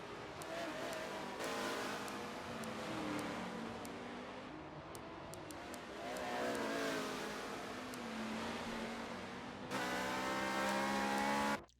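A Porsche and a Ferrari race car battle at the Long Beach street circuit, engines howling and rising in pitch through gear changes, loud and continuous, with one car closing in sharply near the end.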